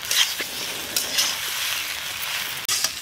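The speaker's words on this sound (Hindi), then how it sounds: "आलू को अच्छे तरीके से भूनेंगे" Potatoes being fried and stirred in a pan, a steady close sizzle broken by scraping stirs and a brief knock near the end, no voices.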